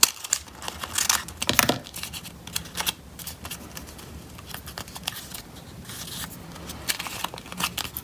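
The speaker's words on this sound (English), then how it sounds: "And then I'm just going to carefully cut straight down." Scissors cut straight down through a paper bookmark, a series of close crisp snips and rustles of paper, uneven and moderately loud, with no talking.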